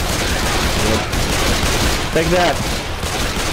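Rapid bursts of video game gunfire rattle loudly through a co-op rocket-building game, a short volley standing out near the end, with players talking over it.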